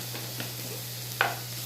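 Cashews fry in a pan for rava upma, a soft steady sizzle with light stirring and one sharper scrape of a spoon near the end.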